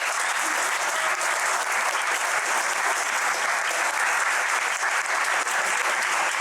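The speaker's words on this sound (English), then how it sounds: "maybe we just give them a round of applause quickly" Audience applause for panel organisers at an evening innovators' panel discussion: a dense, even wash of many hands clapping at once, loud and sustained without a break, no voices over it.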